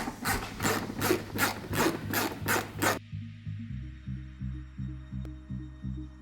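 Rubber trim being rubbed and pressed onto the wheel arch of a Dodge Ram 1500 pickup, giving about seven rhythmic, close scraping strokes, followed by a steady repeating mechanical thumping pattern.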